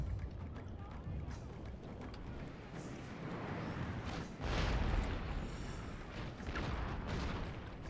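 Booming cannon artillery fire in a strategy video game, a dense, continuous rumble of blasts with heavier thuds rising midway, loud and sustained throughout.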